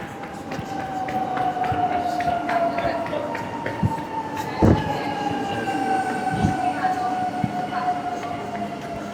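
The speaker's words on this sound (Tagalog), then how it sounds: "Andyan na yung train." A passenger train pulling into a station, a steady rumbling roll with a sustained wheel squeal and occasional clanks, loud and close, with crowd noise and voices faintly underneath.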